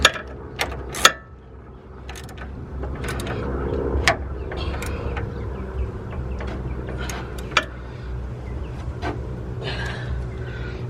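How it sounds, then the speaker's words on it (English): A hand ratchet tightens a coilover on an R34 Nissan Skyline with irregular clicking and scattered sharp metallic ticks over a steady low background hum. "Let me get the ratchet. Tighten this up real quick."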